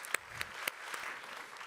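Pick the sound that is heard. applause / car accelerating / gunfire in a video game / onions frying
applause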